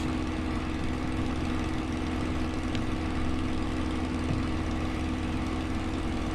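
In a flight simulator, a Spitfire's piston engine with a two-speed supercharger drones steadily during a climb, a continuous loud propeller-engine hum with a constant low tone and no breaks.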